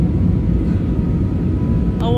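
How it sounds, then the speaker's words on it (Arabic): Inside an airplane cabin on a flight from Lebanon, a steady low engine rumble fills the space, continuous and close, with a brief faint tone near the end. "الطيارة عملت هيك، هيك عملت الطيارة"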